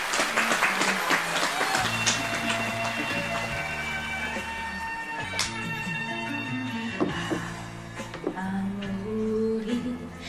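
Studio audience applause at a trot singing survival show, scattered clapping at the start that fades under a swelling instrumental song intro with a steady bass line.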